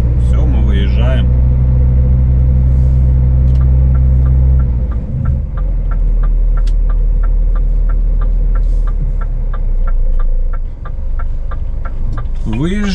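A loaded truck carrying paper pulls away, its engine rumbling and throbbing steadily throughout with a strong low drone, a brief shift in pitch midway, and a navigation voice and talk heard over it.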